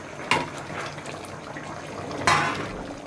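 Fish curry broth with potato, eggplant and tomato simmering in a pot, a steady bubbling wash broken by two louder splashy bursts, close by with no talk.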